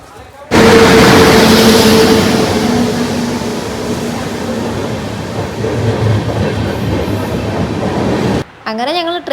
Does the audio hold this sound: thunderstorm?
no